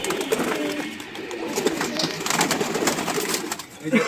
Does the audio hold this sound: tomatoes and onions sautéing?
no